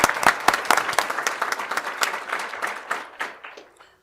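Audience applause at a school board of education meeting, a burst of clapping that starts strong, with a few sharp claps standing out, then thins and fades over about four seconds with no one speaking.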